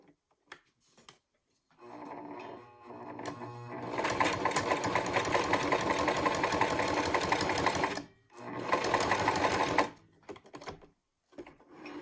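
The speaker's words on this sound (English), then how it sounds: "And now I'm just going to sew it." A sewing machine stitches a leather crossbody bag, running in a long loud continuous burr broken by short pauses, with a second run after a brief stop.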